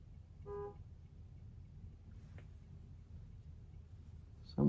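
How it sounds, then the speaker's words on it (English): A single short car horn toot sounds from a distance outside a studio, faint against a low background hum, followed later by a brief louder knock or thump. "Someone just honked the horn."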